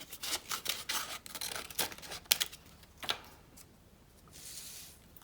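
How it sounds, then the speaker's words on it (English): Scissors snip diagonally through paper striped for candy canes, making a string of close, crisp cuts in quick irregular bursts that slow and fade toward the end. "So you basically cut diagonally into your stripes"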